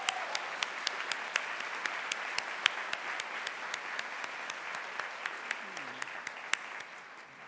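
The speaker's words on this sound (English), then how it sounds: "Let's give them another round of applause." Audience at a university forum applauding continuously, a dense roomful of clapping with some sharp individual claps standing out, fading slightly near the end as a voice begins.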